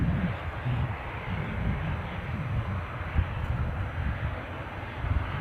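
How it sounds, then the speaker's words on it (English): Ryanair Boeing 737 MAX 8-200 departing Edinburgh airport, a steady broad jet roar at moderate distance holding level throughout. "Ryanair's Marseille flight. 737 MAX 8-200 scooting out"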